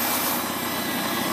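A 1951 Farmall Cub tractor engine idles steadily close by, a continuous loud mechanical drone with no pauses or other sounds over it.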